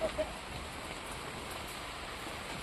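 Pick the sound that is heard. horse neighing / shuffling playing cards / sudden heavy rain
sudden heavy rain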